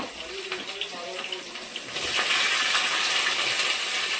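Water gushes steadily into a curry pan of bitter gourd, a continuous splashing pour that grows fuller and louder partway through.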